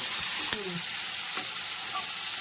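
Green chillies and capsicum fry in a pan of oil as part of a chicken 65 dish, giving a steady close sizzle with a brief clink of stirring.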